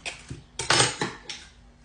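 Whisk strokes scraping and tapping a bowl as vanilla and butter are beaten into a coconut cream pie filling, a few short, separate clinks and swishes, close and clear, with no one talking.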